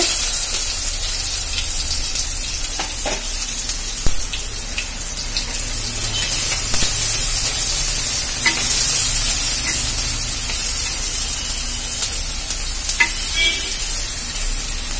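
Onions fry in a pan with mustard seeds, urad dal and cumin, giving a steady close sizzle with occasional sharp crackles and light stirring scrapes throughout.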